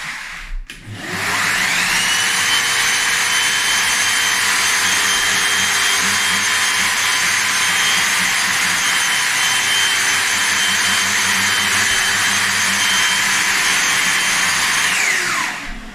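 Continuous loud scraping of a tool head pressed hard against OSB board, steady and abrasive for about fifteen seconds, close up with no talking.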